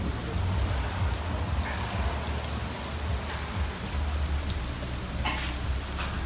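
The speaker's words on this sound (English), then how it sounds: "raining out, man. We need a nice rainstorm after today." Steady rain falls outdoors, a dense, even hiss of drops spattering on surfaces that continues without pause and with no voices.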